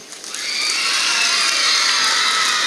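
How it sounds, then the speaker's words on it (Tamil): A school audience bursts into loud cheering and shouting that swells quickly and holds steady at full volume, with a dense wash of crowd noise and faint clapping underneath. "ஸோ எல்லாருக்கும் நல்ல ஒரு கைத்தட்டு கொடுக்கலாமா?"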